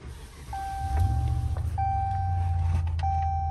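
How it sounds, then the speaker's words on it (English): A fourth-generation Ram pickup truck engine cranks and catches, settling into a steady low idle, with intermittent electronic chime beeps sounding over it. "so let me just turn the truck on"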